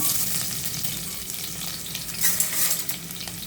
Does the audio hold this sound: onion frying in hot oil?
yes